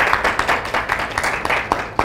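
Scattered audience clapping at the 2022 Busan Cosmetics Industry Association annual general meeting, with sharp separate claps over about two seconds at moderate volume.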